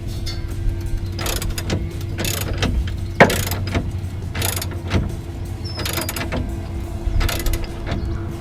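A ratchet wrench tightens a rear bumper bolt on a Ford Ranger, quick bursts of clicking ratchet strokes in repeated short runs with metallic clanks between, close and loud, no talking.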